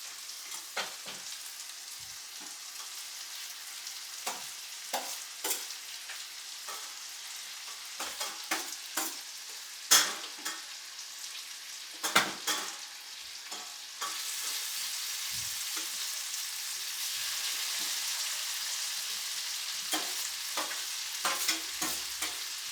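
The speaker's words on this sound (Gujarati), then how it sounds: "તો પાકી ગયા છે હવે આપણે એમાં રીંગણા નાખી દઈશું" Aubergines fry in a hot pan for a home-style ringan nu oro (bharthu), giving a steady sizzle broken by repeated scraping and clanking stirs. The sizzle grows louder and fuller partway through, close up, with no one talking.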